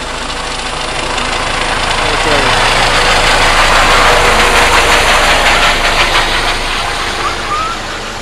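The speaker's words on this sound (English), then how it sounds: "Sounds like the helicopter is taking off" Outdoors at a high school football game, a helicopter lifts off nearby, its loud, steady engine roar and rotor wash swelling slightly and then easing, with no clear voices over it.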